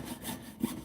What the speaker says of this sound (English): You're going to start sawing